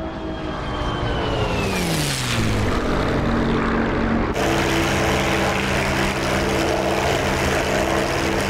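Bf 109 K-4 with an inverted V-12 piston engine flying in a video game: a loud, steady propeller drone whose pitch sweeps down as the plane passes, then a continuous heavy roar to the end.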